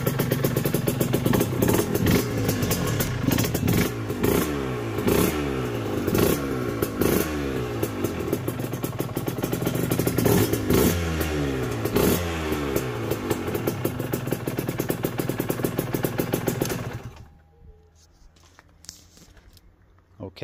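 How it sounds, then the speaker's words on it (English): An Aprilia RS125 motorcycle engine runs just after a cold start, loud and close, with steady rhythmic revving that rises and falls in repeated blips before it cuts off and the sound drops to near silence. "that's from cold, the engine fires up"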